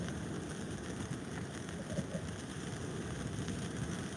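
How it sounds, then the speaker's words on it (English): Rain falls outdoors on the coast during a stormy sea-fishing session, a faint, even pattering hiss that stays steady throughout. "It is rain, it's not hail that I've got here at the moment."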